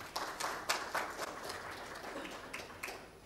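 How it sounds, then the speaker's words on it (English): Audience at a finance workshop applauding: soft, distant clapping with a loose, rhythmic pulse that holds for the whole few seconds, with no voice over it. "je vous demande de les applaudir"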